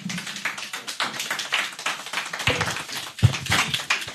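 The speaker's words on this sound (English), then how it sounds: "A round of applause again." Scattered hand claps at a press conference form a light, uneven patter of close, dry claps over a few seconds, with no talk over them.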